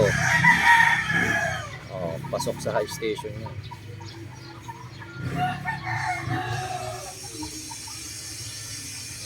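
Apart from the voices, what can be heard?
rooster crowing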